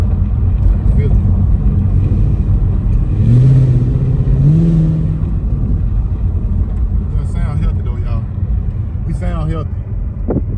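A 6th-generation Chevrolet Camaro SS V8 idles with a steady low rumble close by, briefly swelling louder midway, while people talk over it.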